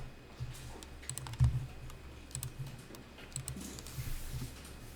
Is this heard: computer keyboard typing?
yes